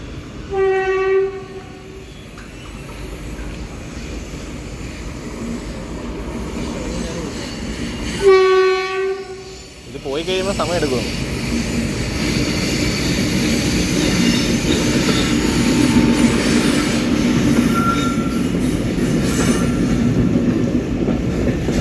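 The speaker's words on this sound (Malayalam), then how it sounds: "എന്തായാലും ട്രെയിൻ വരുന്നുണ്ട് അങ്ങ് ദൂരെ നിന്നും ഒരു ചെറിയ വിളി കേട്ടു" A train sounds its horn in two loud blasts as it approaches and passes a level crossing in Kollam, Kerala, followed by a steady rolling rumble of wagons with squealing wheels that builds and lingers.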